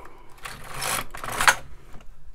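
An LK 150 knitting machine carriage slides across the needle bed in two sweeping passes, a close, rasping mechanical whir that rises and fades, with no voices.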